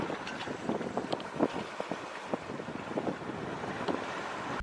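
A sailboat running on a close reach at sea, with steady wind rushing over the microphone and water washing along the hull, a constant broadband roar with small gusty swells and no voices.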